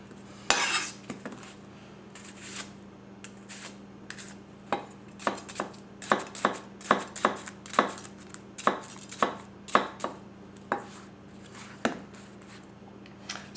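A Masakage Yuki 270 gyuto knife chops rapidly against a cutting board, a quick series of crisp, close knocks in uneven rhythm, with no voices.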